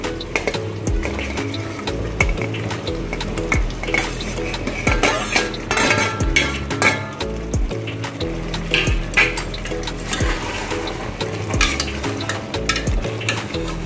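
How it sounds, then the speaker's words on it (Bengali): Mutton curry sautéing with salt-fried potatoes, a continuous sizzle under frequent clattering of a spatula against the pot, with scraping, knocks and metallic clinks throughout. "এই আলুটা দিয়ে আমি আরো 2 মিনিট কষে নেব"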